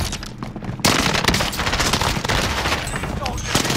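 Rapid automatic PPSh submachine gun fire in a first-person shooter, a dense, loud continuous burst of shots running almost the whole time with players talking over it.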